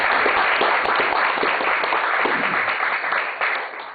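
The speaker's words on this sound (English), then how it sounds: "let's welcome Mr. Kim with a big round of applause" Audience at a Korean heritage lecture event giving a welcoming round of applause for the speaker, Mr. Kim; dense, steady clapping from a crowd close by, sustained throughout with no talk.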